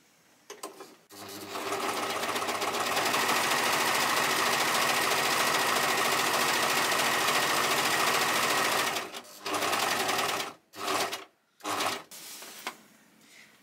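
Serger stitching poplin cotton fabric for a child's chef's shirt, running in one loud continuous whirring burst for about eight seconds, then stopping and restarting in a few short spurts.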